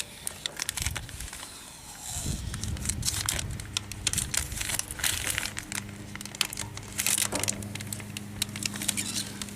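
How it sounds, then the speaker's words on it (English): Vinyl sticker being peeled and scraped off a Case 446 tractor during restoration, a steady crinkling, crackling texture with scattered tearing ticks, close and continuous after a quieter start, with a low hum underneath. "that's how you get a vinyl sticker off anyway"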